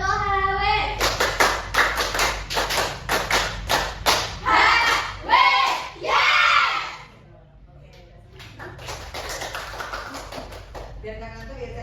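A group performing the Tepuk HW rhythmic clapping chant in a classroom, with quick bursts of patterned claps and thumps alongside voices, loud and close, followed by quieter talk.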